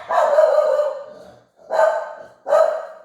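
A dog barks loudly and close by during a church pastor's live prayer service: one long, rough bark, then two shorter barks after a pause, with no voices alongside.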